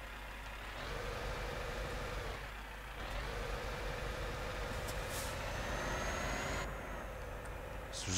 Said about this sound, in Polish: Dźwięk silnika też się zmienił. Tutaj hałas w kabinie także uległ zmianom.